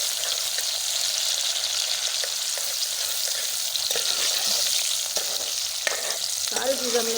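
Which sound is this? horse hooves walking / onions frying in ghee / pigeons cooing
onions frying in ghee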